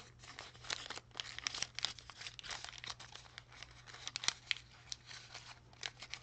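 Paper crinkles and creases close up as flaps are folded for an origami Beyblade, a run of small irregular crackles and soft rustles with no talking.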